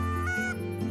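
A goose honks and calls in the hunting game theHunter: Call of the Wild, a short close nasal call that rises and falls, with no talk over it.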